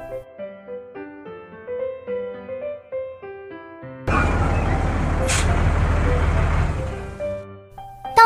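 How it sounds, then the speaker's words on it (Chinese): A cartoon delivery truck, the little red truck of a children's picture book, rumbles loudly with a broad engine roar and a brief hissing air-brake burst, following a stretch of gentle music that plays alone. "我是卡车小红，我的工作是送货，现在我要去狸猫叔叔家拉货了。"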